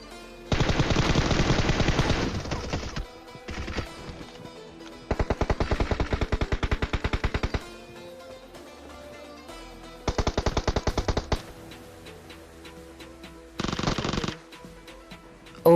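Gunfire in the PUBG video game: several long bursts of rapid automatic fire, loud and close, separated by short gaps with scattered single shots and game sounds.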